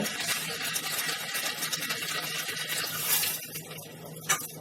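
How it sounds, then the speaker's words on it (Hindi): More water poured into a cooking pot of boiling fish for chilli fish makes a steady, full gush that runs for several seconds, then thins out with a brief splash near the end. "थोड़ा सा पानी भी और डालेंगे।"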